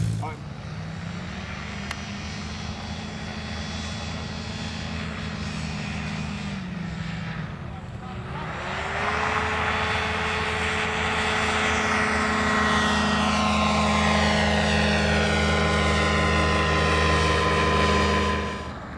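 A small propeller airplane on a first solo flight drones steadily, then its engine pitch shifts and the sound swells louder partway through as it passes, with faint background voices.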